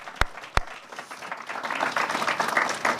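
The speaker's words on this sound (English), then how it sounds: "we can clap for that, right?" Audience clapping at a state housing funding announcement: two sharp claps, then applause swells and carries on steadily.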